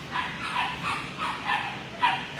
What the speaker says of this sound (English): You are such a handsome dog, Hardy.